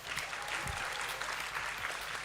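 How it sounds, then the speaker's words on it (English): Steady applause from an audience, a dense wash of clapping that holds at an even level for a couple of seconds. "please give them another round of applause"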